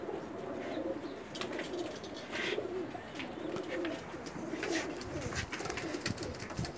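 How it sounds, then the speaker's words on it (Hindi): Pigeons coo repeatedly in soft, rolling calls at a loft, mixed with faint chirps and scattered clicks and rustles, moderately near against steady background noise with no talking. "इनके कबूतर हैं माशाल्लाह।"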